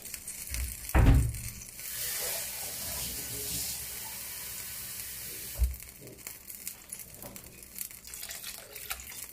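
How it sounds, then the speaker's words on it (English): Tap water runs into a cooking pot for wild rice and mushroom soup, a steady close rush with a couple of louder thumps near the start and partway through, no talking. "So I'm just gonna fill this with water and add that to it."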